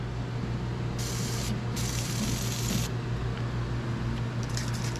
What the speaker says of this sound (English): So we're gonna spray some lubricant down in here